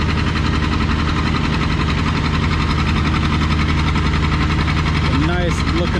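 A John Deere 830 tractor engine pulls a 10,000-pound load at 3 mph at a vintage farming days track event, a steady, loud, thumping drone throughout, with brief whistling near the end.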